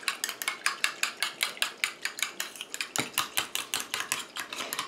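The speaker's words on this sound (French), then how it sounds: "Je mélange à nouveau" A utensil clinks rapidly and evenly against a bowl while a rose and orchid face mist mixture is stirred, a quiet close-up tapping rhythm with no voices.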